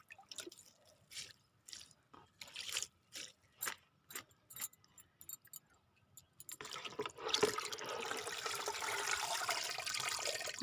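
Water trickles in short, separate splashes into a homemade plant fertilizer mix, then turns into a steadier, louder pour during the final few seconds; close and fairly quiet, with no talking.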